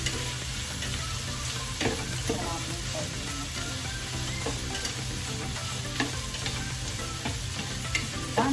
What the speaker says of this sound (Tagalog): Konting gisa-gisa, ilalagay na natin siya here.